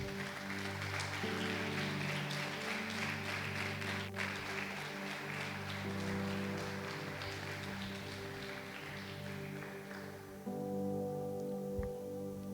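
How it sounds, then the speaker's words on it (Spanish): A church congregation applauds during a worship service, a dense, steady wash of clapping lasting several seconds over sustained musical tones, without a clear voice. "Dale un aplauso al Señor."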